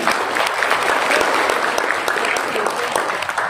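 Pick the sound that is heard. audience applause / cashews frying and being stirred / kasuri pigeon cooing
audience applause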